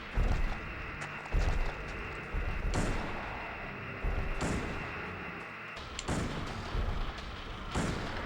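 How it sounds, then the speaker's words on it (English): Rifle shots from Silent Hill 2: Restless Dreams fired at a monster in a small room, heard as a series of loud, booming blasts spaced a second or two apart over a low rumbling background, with no talking. "we put 8 rifle rounds in this thing, and it's still not dead"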